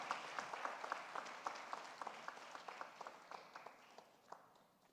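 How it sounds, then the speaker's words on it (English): Scattered hand claps from an alumni meet audience, a fairly small, distant-sounding round of applause that gradually thins out. "can we have a loud applause for Ms. Kabira?"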